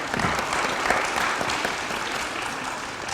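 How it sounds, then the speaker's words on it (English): Audience applause at Edmond's House District 39 candidates debate, a steady wash of clapping from a seated crowd that holds evenly for about three seconds without voices over it. "Let's give them a round of applause real quick."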